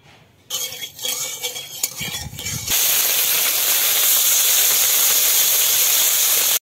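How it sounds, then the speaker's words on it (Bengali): Small fish dropped into hot mustard oil in a pan, with a few clinks and stirs at first, then a loud, steady close hiss and sizzle that runs to the end, no talking. "মাছটা ভেজে নিব।"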